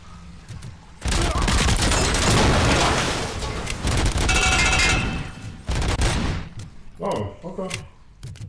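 An OCP security turret in RoboCop Rogue City fires a sustained, loud burst of rapid gunfire lasting several seconds, with booming impacts, then a few scattered shots and thuds as it tapers off.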